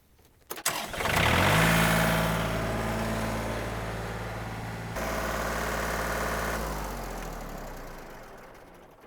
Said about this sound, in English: I'm going to let the tractor idle for a few minutes.